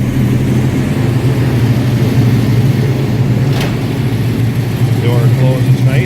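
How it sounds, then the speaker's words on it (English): A 1971 Dodge Challenger 340 V8 idles with a constant low, close rumble, while a voice talks over it. "nice rumble out of that 340"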